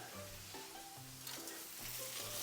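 A steak sizzles and fries in a hot pan as it gets flipped, a steady hiss that swells near the end, with a faint tonal hum underneath and no voices.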